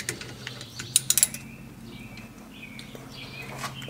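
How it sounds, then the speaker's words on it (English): A ratchet with an extension works on the bolts of a differential cover, giving a short burst of quick clicks amid faint mechanical handling noise, close and moderately loud. "let's just get to removing this thing and get the lower bolts off first."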